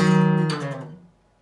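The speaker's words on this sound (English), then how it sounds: "press down firmly and slide the shape down the neck of the guitar" A sustained electric guitar two-note shape slides down the neck, its pitch dropping smoothly before the tone fades out over about a second.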